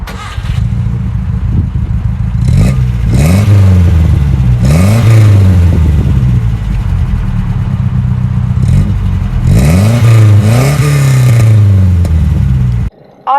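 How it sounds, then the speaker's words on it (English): Chrysler Avenger engine heard from outside the car, revved hard several times in rising and falling bursts over a steady idle, loud and close, with no voices. "Let me give it a little rev."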